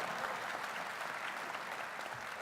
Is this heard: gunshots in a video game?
no